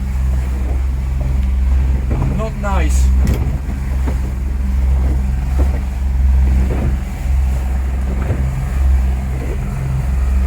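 A fishing boat pounds through waves at sea, with a constant engine drone and heavy wind buffeting the microphone, while a voice speaks briefly over the rough, rolling noise.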